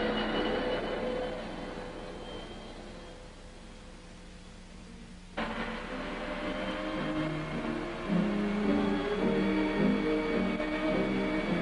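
Chrysler Turbine Car, an air-cooled turbine Dart, lighting off and pulling away: a steady rushing whine, a sudden sharp onset partway through, then a rising layered turbine tone as it moves off.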